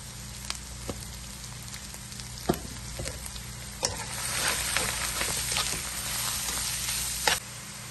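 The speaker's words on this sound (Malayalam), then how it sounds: "ചതച്ച് വെച്ചിരിക്കുന്ന അരപ്പ് എല്ലാം കൂടെ ഇട്ട് നമ്മൾ ആവശ്യത്തിനുള്ള ഉപ്പും കൂടെ ചേർത്ത് ഒന്ന് ഇളക്കണം" Crushed spice paste with salt, for a stir-fried papaya thoran, sizzles steadily in a pan while a spoon scrapes and knocks now and then, close and clear with no talking.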